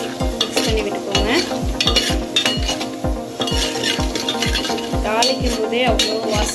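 Urad and chana dal stirred in hot oil in a pan while tempering for Tamil rice upma, with a steady sizzle and a spoon scraping rhythmically against the metal, loud and close.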